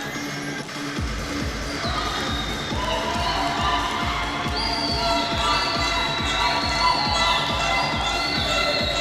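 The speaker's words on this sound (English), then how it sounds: "He's pretty cool with all the noise and cheering." Crowd noise and cheering in the arena at a Dubai para powerlifting World Cup, a sustained roar of voices with rising shouts in the second half, heard continuously at close range.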